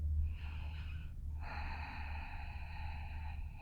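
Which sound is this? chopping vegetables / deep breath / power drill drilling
deep breath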